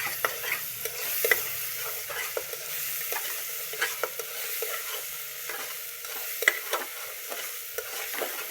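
Mutton masala sizzles steadily in a pan, with repeated scraping stirs clicking through the frying hiss at close range, no voices over it.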